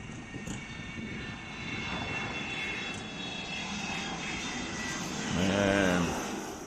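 A Vulcan bomber passes with a steady broadband roar of its engines, which swells slightly near the end as a tonal whine rises above it.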